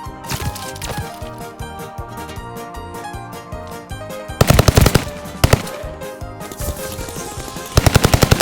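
Welgun submachine gun fire in Call of Duty Vanguard, loud rapid automatic bursts with dense repeated cracks, heaviest near the middle and end, over busy game sound.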